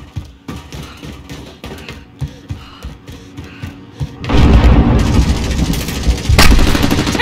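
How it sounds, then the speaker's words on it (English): Gunfire in the video game Spec Ops: Operation Headhunter, first scattered sharp shots in quick irregular bursts, then a loud, sustained barrage of heavy firing and blasts close by. "Taking fire!"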